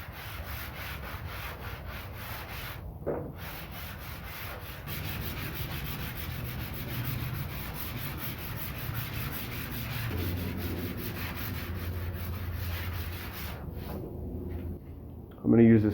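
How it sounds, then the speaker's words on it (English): Steady, soft rubbing and scraping strokes of a sanding sponge lightly sanding a solid wood dining table, continuous for most of the stretch, with a brief louder bump near the end. "I'm going to use this sponge and just lightly sand across the top of everything"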